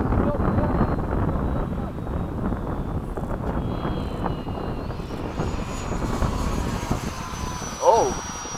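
Freewing 90mm F/A-18 or F-22 electric ducted-fan RC jet passing overhead at low throttle, a steady airy whine that rises and fades with distance, with a brief louder swoosh near the end.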